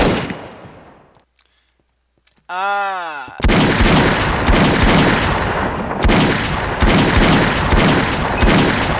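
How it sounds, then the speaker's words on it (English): Pulse rifle fire in a Minecraft server game: a rising synthetic charge-up whine, then a loud, dense barrage of rapid energy shots in repeated bursts with no talking over it. "Pulse rifle."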